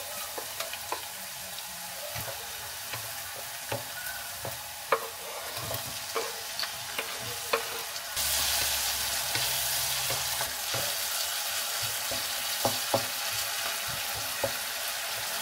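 Onion and garlic fry in hot oil with a continuous close sizzle, and frequent light utensil taps and scrapes sound against the pan. Partway through, the hiss grows louder and brighter.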